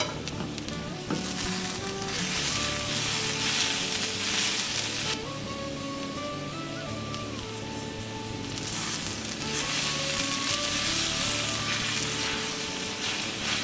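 Radish and pea ghonto sizzles and fries steadily in a pan with sugar added, a continuous close hiss with occasional stirring scrapes throughout, no talking.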